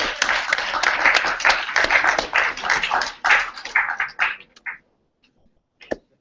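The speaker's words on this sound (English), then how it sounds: "So once again, applause for those three." Audience applause for three presenters at a Google presentation skills session, a dense burst of many hands clapping that thins out and stops, with a few stray claps near the end.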